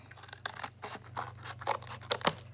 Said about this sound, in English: So I'm going to cut this first one off here